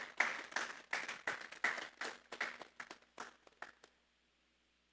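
A church congregation at a Sunday service applauds as an offering to God, with about a dozen rhythmic bursts of clapping in quick succession that fade out near the end.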